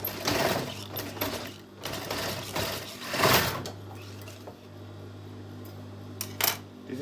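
Sewing machine stitching a trouser waistband at a pinned spot, running as a steady low mechanical whir and hum with brief pauses and faint clicks, close by.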